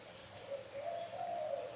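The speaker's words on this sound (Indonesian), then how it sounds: "Ini burung terucuk habis pada dimandiin." Terucuk bulbul birds call just after being bathed, giving a steady, moderately faint warbling tone that rises and holds over an ambient background, with no one talking.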